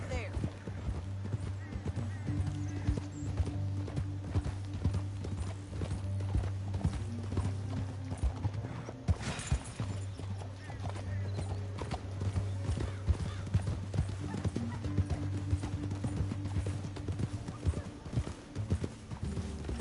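Horse hooves clip-clop at a steady walking rhythm in Red Dead Redemption 2, a continuous close plodding under in-game character dialogue and a low ambient music bed.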